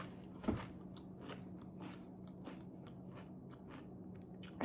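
Crisp, crunchy chewing of Wheaties Protein cereal with milk close to the ear, with repeated bites and munches in an uneven rhythm, ending in a louder crunch.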